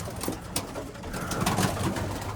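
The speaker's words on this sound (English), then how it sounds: "Pigeons." Racing pigeons coo softly in a loft, with low throaty calls repeating over a hushed background of shuffling and rustle.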